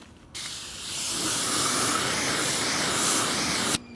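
Water spray rinsing a car's paint protection film, a steady broad hiss starting abruptly and running continuously close up for a few seconds before cutting off sharply, with no voices.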